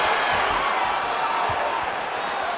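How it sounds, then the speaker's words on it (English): A large crowd in the UFC 5 video game roars in a steady, loud wash of cheering after a punch, holding throughout with no clear break or peak. "listen to the reaction from the crowd"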